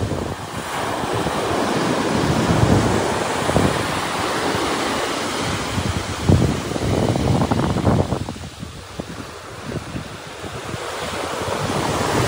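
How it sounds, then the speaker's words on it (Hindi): Sea waves roll and break continuously on Palolem Beach in South Goa, a loud, broad wash of surf with swelling surges and wind buffeting the microphone, and no voices. "आप सुन पा रहे होंगे समुद्र की लहरों का शोर"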